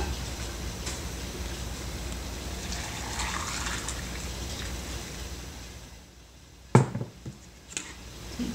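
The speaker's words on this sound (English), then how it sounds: "you will take boiling water and pour it to your inch headspace" Boiling water poured into a canning jar packed with green beans, a soft gushing, filling trickle close by, rising slightly in pitch before stopping, followed by a few light clinks.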